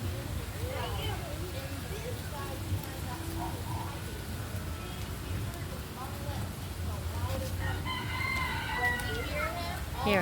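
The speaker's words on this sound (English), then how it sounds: "Here, a rooster." A rooster at a zoo in Tampa, Florida crows a few times amid a busy outdoor crowd, the calls moderately distant and partly masked by people talking and children's voices nearby.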